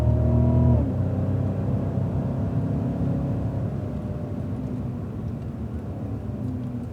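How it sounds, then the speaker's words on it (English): A Cadillac CTS-V accelerates on a race track, its engine note loud and close at first, then settling into a sustained roar that fades slightly as the car pulls away. "And then accelerate away as we unlock."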